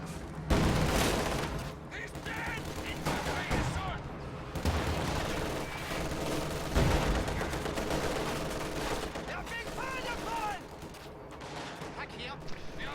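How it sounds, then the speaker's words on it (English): Tank cannon fire and gunfire ring out in a World War II strategy game battle involving a Panzer IV and a T-34, with repeated sharp booming shots and bursts over constant battle noise, while a commentator talks throughout. "Panzer IV takes a shot on the rear armor though, and down it goes."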